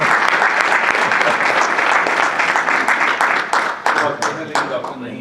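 Audience at an Urdu literary gathering in Atlanta bursts into loud, sustained applause welcoming a doctor-poet to the stage, dense clapping filling the room and tapering slightly toward the end.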